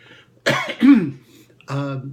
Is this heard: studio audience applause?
no